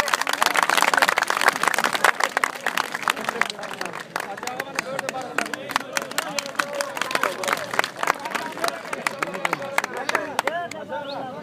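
A crowd at a Turkmen wrestling match on the Zeytinburnu shore claps in a dense burst that thins into scattered, uneven claps, with voices and babble mixed in throughout.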